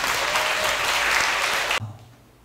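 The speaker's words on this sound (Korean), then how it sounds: "여러분 다 같이 뜨거운 만강의 박수를 보내주시기 바랍니다." Loud, dense applause fills a church hall during a book-publication celebration for a denomination's general assembly moderator, then cuts off sharply, leaving a low hum and faint room noise.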